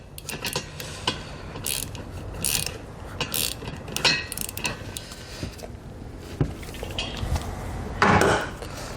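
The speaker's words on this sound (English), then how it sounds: "we'll come back with a 1/2 inch socket here. We'll go ahead and tighten those down." A ratchet fitted with a 1/2 inch socket tightens nuts while a B and W Companion 5th wheel underbed kit goes into a 2021 Chevrolet truck. Close, irregular bursts of metallic clicking and creaking are heard with short pauses between strokes.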